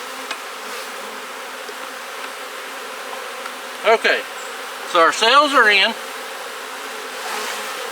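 Honeybees buzz close by around a beehive in a few short bursts over a steady low hum, while a person speaks briefly.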